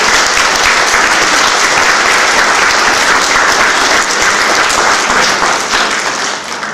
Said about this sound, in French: je crois qu'on peut applaudir l'arrivée du général Combette